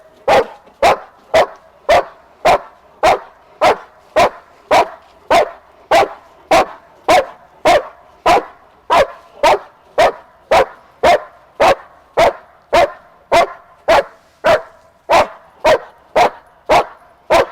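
A dog barks loudly and rhythmically during IGP obedience training, about two sharp barks per second in an unbroken series lasting many seconds, close and with no talk over it.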